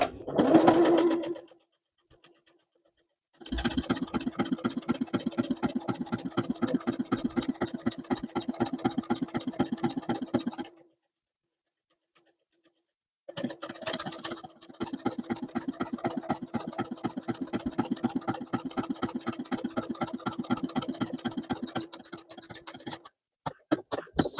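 Sewing machine stitching a buttonhole on a shirt, loud rapid mechanical stitching in two long bursts separated by a pause, with a brief noise at the start.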